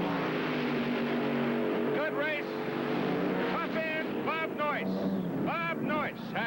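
Drag race cars roar down a quarter-mile strip as a far, continuous engine noise with wind buffeting, while an announcer talks over it throughout.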